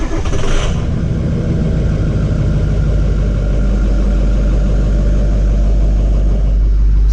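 Ford F250 Super Duty with a 6.0 Powerstroke diesel engine running, a loud, steady low rumble that holds evenly throughout, heard close up with no voices.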